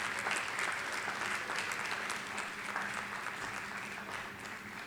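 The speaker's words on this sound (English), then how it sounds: "Big round of applause for the team once again." An audience applauds after a guest-artist glass-casting demonstration, a sustained wash of clapping that stays strong and then eases slightly toward the end.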